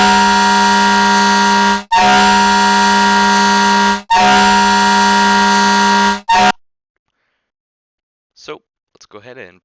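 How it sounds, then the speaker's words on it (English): Three long, loud blasts of a deep, chord-like fire truck train horn in a firefighter video game, cut off abruptly, followed by silence and a few faint clicks. "Train horn does work though."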